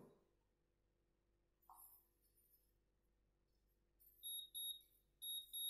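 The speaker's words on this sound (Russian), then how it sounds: "вот духовка у меня пищит, что 10 минут истекло." An oven timer beeps in short high-pitched pairs after a quiet stretch, marking ten minutes of pizza baking, with a faint clink earlier and a low steady hum underneath.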